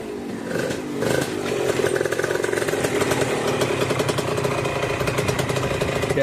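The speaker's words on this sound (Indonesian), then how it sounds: "Dan Rijal lagi ngambil start dari lawan arah ya." A Suzuki TS two-stroke motorcycle pulls away from a start, its engine rising from a low idle into a loud, raspy, buzzing rev that holds steady and close.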